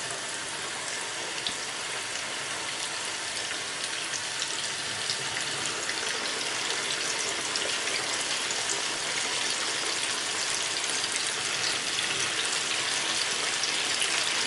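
Chicken pieces, about five in a batch, frying in hot oil for fried chicken loaded fries, giving a steady, loud, dense sizzling hiss that holds unbroken throughout with no talking.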